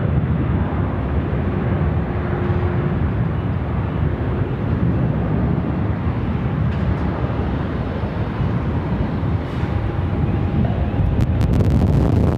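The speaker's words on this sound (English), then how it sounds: "That was the wake dropping down on me from that 737 that's just landed there." Wake turbulence from a Boeing 737 that has just landed at Sydney Airport sweeps down in a loud, continuous, blustery rush, like heavy wind buffeting the microphone, with faint distant engine noise beneath.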